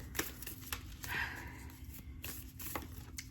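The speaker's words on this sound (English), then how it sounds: "I am right now shuffling the Starseed Oracle deck by Rebecca Campbell." A deck of oracle cards riffles and slaps in a series of quick, close shuffles, soft and papery with brief pauses between bursts.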